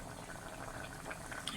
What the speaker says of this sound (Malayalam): അപ്പോൾ കറി നന്നായിട്ട് തിളയ്ക്കുന്നുണ്ട് കേട്ടോ